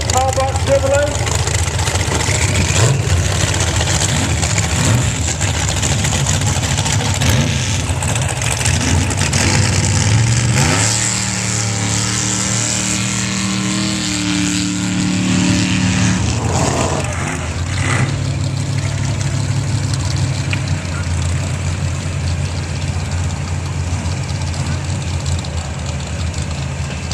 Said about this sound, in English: In the left lane, Corbin Taylor in the transfer truck. Twin Turbo, small box Chevrolet